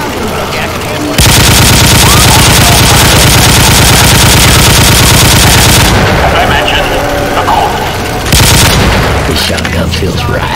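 Shotgun blasts and other gunfire rattle loudly and continuously in Left 4 Dead 2 gameplay with a gun game mutation mod, a dense barrage lasting several seconds before a short lull and another burst.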